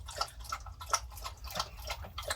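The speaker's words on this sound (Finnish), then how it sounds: "Koira juo taas tuolla vettä." A dog laps water from its bowl indoors, a steady run of quick, wet slurping laps close by with no talk.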